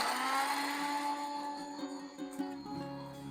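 A kitchen mixer grinder whirs steadily as it powders cardamom, nutmeg and sugar, loud and close with a sustained motor drone that shifts pitch slightly near the end.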